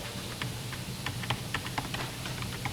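Shift and arrow keys are pressed on a computer keyboard, a quick series of close, crisp clacks at an uneven typing rhythm over a low steady room hum.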